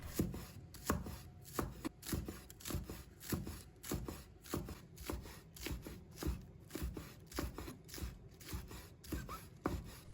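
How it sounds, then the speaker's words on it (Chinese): A knife chops green onion into small pieces on a cutting board, a fast, steady run of crisp close taps with no voices. "再准备1把小葱，把它切成小粒"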